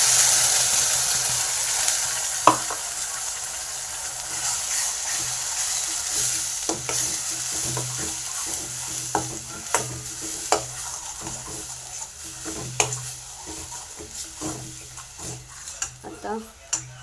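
Spice paste fries in oil on low heat for a dried-fish curry, with a steady hiss and repeated scraping and clinking as a spoon stirs it against the pan, growing more frequent toward the end.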